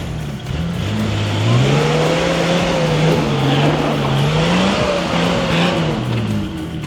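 A Jeep with a faulty four-wheel drive revs loudly while stuck at a campsite, its engine pitch rising and wavering as the throttle is worked in long, sustained pulls, close and continuous.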